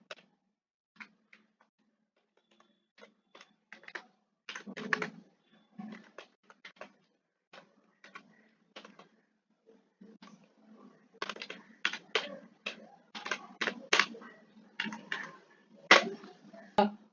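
Code is typed on a computer keyboard in scattered bursts of quiet, close key clicks, with pauses between runs of keystrokes and a denser flurry near the end.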